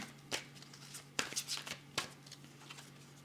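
A tarot card is drawn and laid down on a spread, with soft papery slides and taps close by, several brief card sounds over a quiet room hum.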